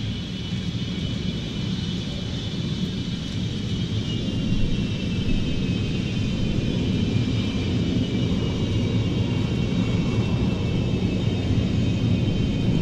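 UAE Al Fursan national display team jets at the Royal International Air Tattoo, a loud, sustained broadband roar with a steady high engine whine, holding level throughout.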